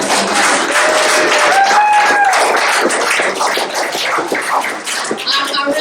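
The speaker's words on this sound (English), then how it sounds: "One more round of applause for Patrick Madison." Comedy club audience at a First Friday show applauds loudly after a comedian's set, a dense sustained wash of clapping with some crowd noise and cheering, tapering slightly toward the end.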